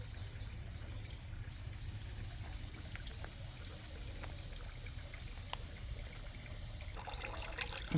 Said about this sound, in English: Here's my little homemade water feature that I made.